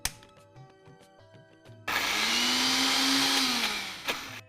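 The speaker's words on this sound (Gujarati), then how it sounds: "અને આ બધું એકવાર સરસ રીતે ગ્રાઇન્ડ કરી લઈશું." A kitchen mixer grinder whirs loudly as it grinds chopped ginger and green chillies, starting abruptly after some light clinks and running at a steady high-pitched roar for a couple of seconds before winding down.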